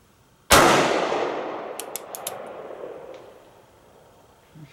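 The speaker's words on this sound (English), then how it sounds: "Okay, I'll shoot upper left target" A single sharp shot from a Standard Manufacturing single-action revolver at an outdoor range, followed by a decaying ring and faint metallic pings from a struck steel target.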